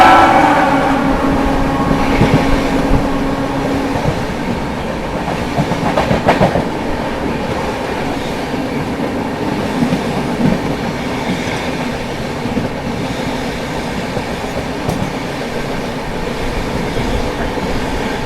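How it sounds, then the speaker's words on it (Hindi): The Purushottam Express, running from Anand Vihar Terminal to Puri, rolls past with a loud continuous rumble and rhythmic wheel clatter, brief squeals near the start, sustained throughout without speech. "तो यहाँ पर सामने से आती हुई आनंद विहार टर्मिनल पूरी पुरुषोत्तम एक्सप्रेस।"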